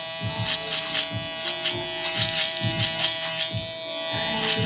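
Electric hair clippers fitted with an adjustable detail guard buzz steadily while cutting a mid taper, with rhythmic pulses as the blade passes through hair, close and continuous.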